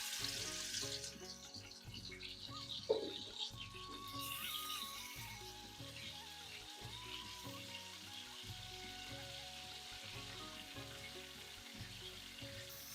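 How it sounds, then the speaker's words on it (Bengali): Ash gourd pieces frying in hot white oil in a wok on a gas stove, a steady soft sizzle with repeated scraping and stirring clatter throughout, close and alone without talk. "এগুলোকে খোলা অবস্থায় নেড়ে চেড়ে ভেজে নেব।"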